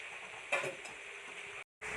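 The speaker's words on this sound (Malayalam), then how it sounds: "സേമിയും നമ്മുടെ മസാലയും പാടം ഒന്ന് നന്നായിട്ട് മിക്സ് ആക്കി എടുക്കാം" Semiya is stirred with masala in a pan for semiya biryani, giving a close, steady scraping and soft sizzling, with one louder clatter midway and a brief silent break near the end.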